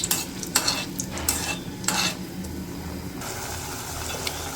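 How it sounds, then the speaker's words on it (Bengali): Dried red chilies frying in a pan on a village kitchen stove, with a quiet sizzle under several sharp stirring scrapes of a utensil early on, then a gentler steady fry continuing alone. "শুকনো মরিচগুলো ভাইজে নিই"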